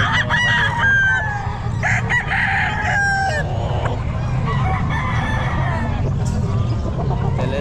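A Sweater Gold gamefowl rooster crows loudly and repeatedly at a busy pet market, its long strained calls overlapping with other roosters' crows and clucks over a steady crowd murmur and talk.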